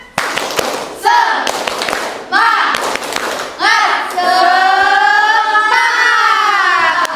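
A classroom of students doing the rhythmic Indonesian tepuk semangat clapping chant, sharp patterned handclaps alternating with loud shouted group chanting, ending in a long sustained cheer.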